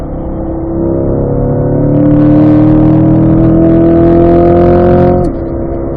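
A car accelerates hard out of a turn on a race track, its loud engine note climbing steadily in pitch for several seconds before dropping abruptly as the throttle lifts, heard close from inside the cabin.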